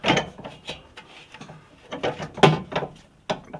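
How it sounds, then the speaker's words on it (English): A heater being fitted onto a mounting bracket during an install in a Mitsubishi i-MiEV, heard as a quick series of close metallic clunks, knocks and clicks with short pauses between them. "I can get the heater in here, get it on that bracket"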